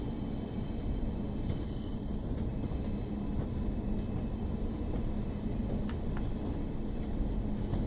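A Class 142 diesel train rolls along a branch line in Train Sim World 4, a steady rumble with faint wheel clicks and a light squeal running throughout.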